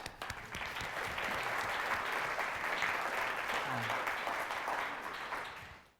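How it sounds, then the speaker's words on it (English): Conference audience applauding steadily for about five seconds, a full, even wash of clapping that fades out at the end. "We give a round of applause, thank you."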